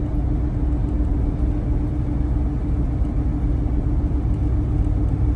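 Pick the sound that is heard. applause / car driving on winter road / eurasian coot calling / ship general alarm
car driving on winter road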